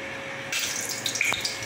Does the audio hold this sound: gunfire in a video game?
no